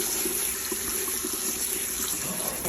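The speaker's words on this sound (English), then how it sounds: "I'll rinse them for quite a while." Tumbled tiger's eye stones being rinsed under a running tap, a steady broadband rush of water splashing into a sink with faint rattles from the stones, continuous and close for the whole stretch.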